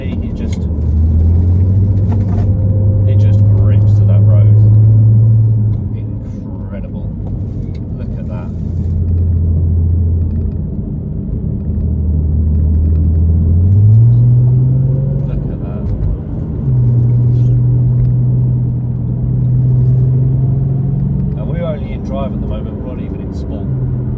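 An Audi TT V6 drives on a road with its engine droning loudly and rising and falling through the gears, under a driver who talks throughout.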